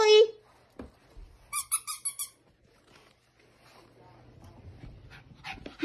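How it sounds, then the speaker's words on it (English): A dog sniffs and pants while hunting for hidden treats during an indoor hide-and-seek game, with short squeaky whimpers and a brief burst of yips, all under a person talking nearby. "that dog is smelling"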